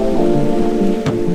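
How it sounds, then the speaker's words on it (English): Steady rain hisses across the whole clip in Manila, with a low rumble underneath and a brief sharper splash or crack near the end. "it's still raining"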